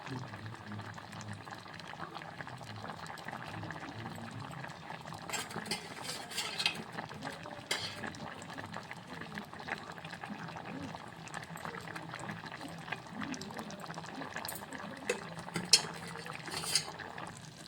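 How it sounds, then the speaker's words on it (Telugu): A spoon stirs sweet chakkara pongal with ghee as it bubbles in a pot, giving continuous scraping and gentle bubbling with occasional metallic clinks against the pot. "ఒకసారి కలుపుకుందాము"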